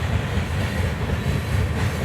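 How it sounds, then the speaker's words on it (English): A train rolls past a Lake Superior beach, a steady close rumble of wheels and cars droning evenly without a break, with no talk over it. "A lot of trains going by today. That's the third one in about a half hour."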